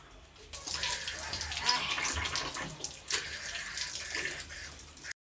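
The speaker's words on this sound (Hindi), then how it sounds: "अब सिर्फ हाथ धो रही हूँ मैं खाना बनाने के लिए।" Water runs steadily from a tap while someone washes their hands at a sink before cooking, with a continuous close splashing rush that stops abruptly at the end.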